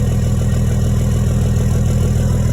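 A Cummins diesel engine with a VP injection pump idles just after a cold start, a loud, steady, close low rumble with an even rhythmic knock throughout.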